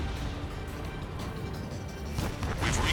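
Explosions in the air-combat game Ace Combat 7 come through as a dense, rumbling roar of blasts and crashes, with heavier bursts hitting near the end.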